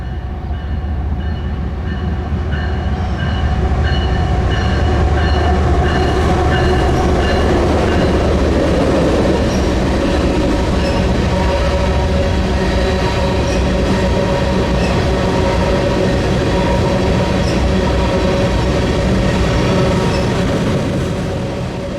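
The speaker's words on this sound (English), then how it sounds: "is mixed freight train M40810, another train with rerouted traffic due to the Howard Street tunnel closure" A mixed freight train rumbles past loudly and continuously, wheels clattering and squealing faintly over a heavy steady roar, with no voices.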